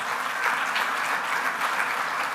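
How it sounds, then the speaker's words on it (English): Audience applause for Best Coach of the Year nominees at the Beach Soccer Stars 2022 awards, a dense, even burst of clapping that holds steady throughout without talk over it. "Big round of applause for our 3 nominees for Best Coach of the Year."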